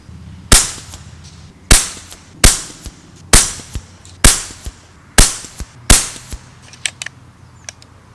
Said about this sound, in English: a little bit of rapid fire while the wind is down